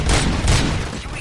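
Dense gunfire in the Robocop: Rogue City video game, a loud continuous volley of shots and booms filling the whole moment without any talk.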